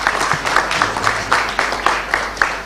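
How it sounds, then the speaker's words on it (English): An audience applauds Ghana's president, Nana Addo Dankwa Akufo-Addo, at a youth-focused event. Steady, moderately loud clapping rolls on for a few seconds with a faint, uneven pulse. "A round of applause, please, for him."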